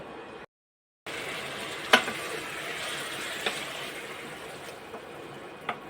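Pointed gourd (potol) frying in oil in a pan on an induction stove at low heat, a steady close sizzle with a few sharp pops and crackles, after a brief silent gap and with no talk.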